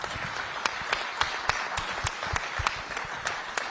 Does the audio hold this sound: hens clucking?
no